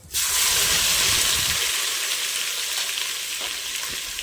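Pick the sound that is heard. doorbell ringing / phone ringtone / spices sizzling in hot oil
spices sizzling in hot oil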